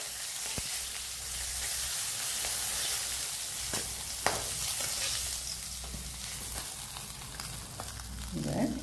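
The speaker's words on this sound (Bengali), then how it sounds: "এবার আমি এইভাবে সমস্ত কাঁটাগুলোকে আমি ভেজে নিই" Rui and katla fish bones fry in hot oil in a pan, a dense steady sizzle with occasional stirring clicks and scrapes, close and continuous.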